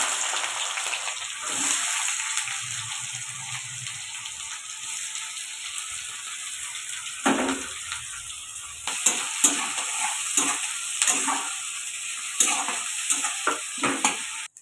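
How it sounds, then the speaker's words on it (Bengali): Onions hitting hot oil already crackling with cumin seeds, bay leaf, chilli and cinnamon, a steady close sizzle with stirring scrapes and clinks throughout, growing busier and more clattery in the second half. "জিরা পেকে গেছে তেলটা পেকে গেছে আমি এবারে পেঁয়াজটা দিয়ে দেবো"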